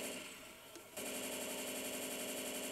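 Explosive rounds firing nonstop in Left 4 Dead 2 during a zombie fight, a dense, loud rattling wall of gunfire that kicks in abruptly about a second in and holds steady to the end.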